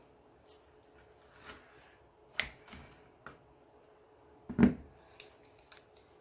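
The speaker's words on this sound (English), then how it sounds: "I think I'm just going to cut some of this stuff out" Scissors snipping through paper craft pieces for Dollar Tree Christmas decorations, a few sharp, scattered cuts with quiet gaps between them, close and fairly soft, no talking.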